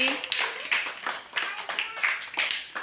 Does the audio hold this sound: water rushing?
no